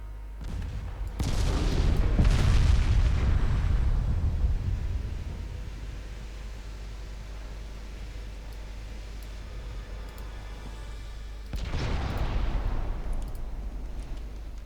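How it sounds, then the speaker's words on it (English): Battleship guns fire high-explosive shells in the naval strategy game Ultimate Admiral Dreadnoughts: two heavy booming salvos, the first long and rolling near the start, the second near the end, with a quieter rumbling lull between them. "Why are we firing HE?"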